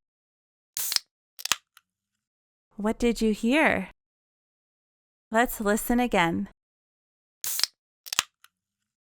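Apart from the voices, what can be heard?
soda can opening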